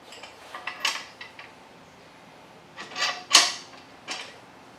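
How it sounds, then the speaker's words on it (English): A Rabaconda tire changer's bead breaker works a Harley-Davidson Dyna Wide Glide tire off its bead, producing close, irregular metallic creaks, clanks and scraping bursts, the loudest near the end. "take the bead breaker, break this thing off the bead, and then flip it over, break the other side"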